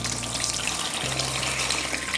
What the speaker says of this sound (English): Now that the pulp has been separated, we're going to pour it into this pillow casing.